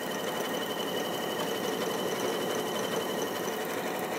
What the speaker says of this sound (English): So I do like a quick sewing machine.